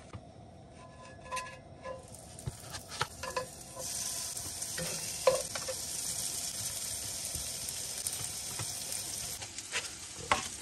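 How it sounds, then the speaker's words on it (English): Four burgers frying at once in a little olive oil inside a van, a crackling sizzle that swells louder partway through, with occasional clinks and scrapes of the pan and no talking. "I think we're going to try to just cook all four burgers at once and get it done."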